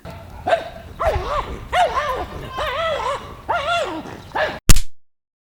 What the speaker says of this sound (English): on our walk, Buckets and I came upon this demon-possessed dog